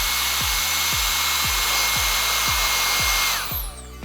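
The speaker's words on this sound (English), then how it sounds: "Just using my blow dryer to blow dry out those mids." A handheld blow dryer roars steadily close by while drying sectioned hair during a blonde lightening service, its airflow hiss rising and shifting near the end as the nozzle moves.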